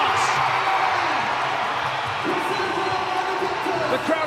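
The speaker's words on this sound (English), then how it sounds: "The crowd enjoyed that one here in the Bahamas." A stadium crowd cheers at a World Athletics Relays race in the Bahamas, a broad, continuous roar of voices and whoops running under an announcer's commentary.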